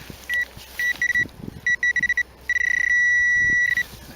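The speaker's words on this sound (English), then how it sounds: "This is ringing up in the goldy bronzy area." A metal detector gives off a series of clean electronic signal tones: short repeated beeps, then a longer sustained tone. The beeps are loud and close over faint outdoor background, with no talking.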